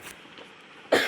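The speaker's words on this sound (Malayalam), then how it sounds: "ചെറിയ ചുമയും പനിയൊക്കെ ഉണ്ട് കേട്ടോ." A single short cough from a person with a mild cold and fever, close and sharp at the very end after a quiet room pause.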